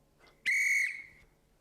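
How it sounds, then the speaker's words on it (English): A single sharp whistle blast, loud and close, holds for about half a second and then cuts off, with a faint breath sound just before it. "when I blow my whistle"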